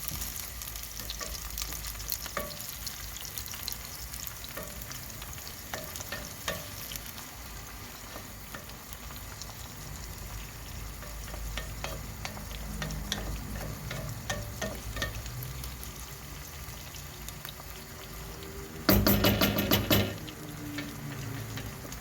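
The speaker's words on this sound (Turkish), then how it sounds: "Kapya biberimizi de soteliyoruz arkadaşlar." Onions and red kapya peppers sautéing in a pan for spinach kavurma, a steady close sizzle with frequent stirring clicks and scrapes, growing louder with a burst of rattling near the end.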